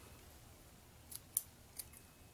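Three quick, faint snips from scissors trimming hair pieces for a latex mask stand out over a quiet background, with no talk.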